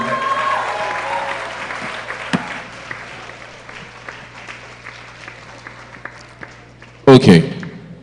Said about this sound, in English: A round of applause for everybody who won.